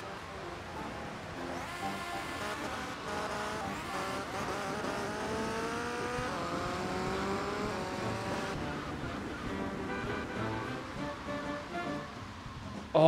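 Motorcycle engine in the GTA Vice City mod Tightened Vice, revving and rising in pitch steadily with tire squeal and skidding mixed in, loud and continuous for the whole stretch.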